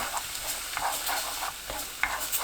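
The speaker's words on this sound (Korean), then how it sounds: "된장 2스푼, 고추장 한스푼 넣고 중불에서 1분 볶아주세요" Soybean paste and chili paste stir-fried over medium heat for Korean gangdoenjang, a soft continuous sizzle with light intermittent stirring scrapes, close and fairly quiet, no talking.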